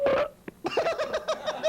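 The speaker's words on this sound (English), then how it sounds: "How about they burped?" A burp comes over a phone line from a caller on a live radio call-in show: a short eructation opens the clip, then a loud, rhythmic run of gurgling, belch-like bursts follows close and alone.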